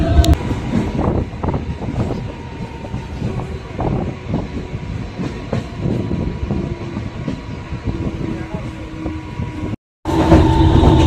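An Arakkonam–Tiruvannamalai MEMU electric passenger train pulls away after waiting at a crossing, heard from inside with a loud steady rumble and rhythmic wheel clatter, briefly cut to silence near the end before resuming.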